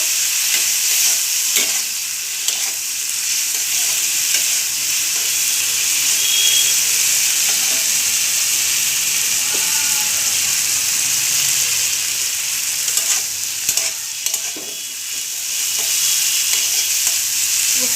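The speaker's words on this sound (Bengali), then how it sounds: "পরিমাণ লবণ আর হলুদ দিয়ে ভেজে নেব" Bottle gourd fries with salt and turmeric in a pan, a loud, steady, close sizzling hiss that runs throughout, with occasional light scraping knocks from stirring.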